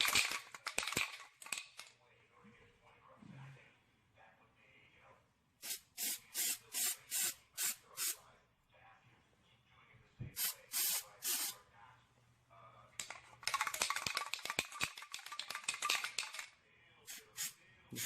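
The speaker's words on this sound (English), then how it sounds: "I'm going to spray it with the undercoating as well" Undercoating sprayed from an aerosol can onto the body of a car undergoing rust repair, an AE86 project, in several loud hissing bursts of varying length with quiet pauses between, and handling noises in the gaps.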